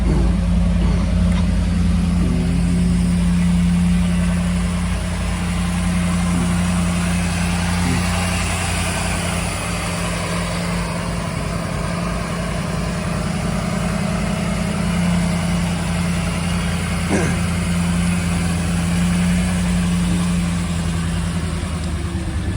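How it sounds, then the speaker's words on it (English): An Iroc Camaro G92 convertible with a five-speed idles steadily, its motor holding a low, even rumble with a faint regular pulse, close and loud throughout, with no voices. "Slowing itself down there off the Iroc motor, idle airspeed controller."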